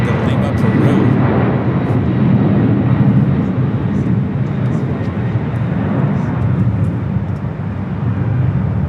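A Boeing 767 airliner departs LAX on a flight to Lima, Peru, its jet engines giving a steady, loud broadband roar that holds through the whole stretch with little change in level.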